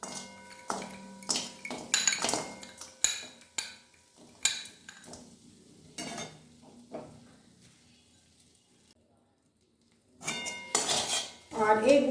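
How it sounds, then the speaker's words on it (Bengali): A metal spoon scrapes and clanks against a wok as jaggery goes in and gets stirred, a run of close, uneven clatters that thins out and falls nearly silent before a fresh burst of knocking at the end. "এবারে এই কড়াইয়েই আমি যে গুড়টা রেখেছিলাম সেই গুড়টা দিচ্ছি।"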